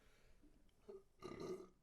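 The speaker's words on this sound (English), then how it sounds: "Burping?" A person burps during a hot pepper tasting, a short low burp followed by a louder, longer guttural belch, close and alone.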